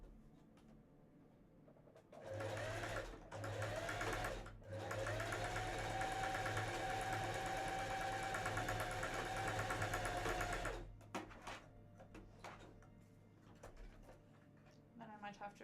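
A sewing machine stitches a cosplay shirt in steady bursts, loud and close, running continuously for most of the stretch with brief pauses near the start and a few short stitches at the end.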